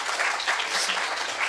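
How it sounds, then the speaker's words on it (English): A brief burst of audience clapping at a digital health and AI conference, steady and even for a moment, honouring the ministries. "I think this deserves also applause for the ministries."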